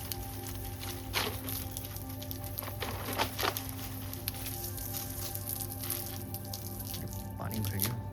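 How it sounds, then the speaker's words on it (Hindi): Water trickles and drips while a tulsi plant is watered from a tank tap outdoors, with a steady low hum and scattered small splashes running throughout. "इनफेक्ट मैं पानी डाल देता हूँ यहाँ पे।"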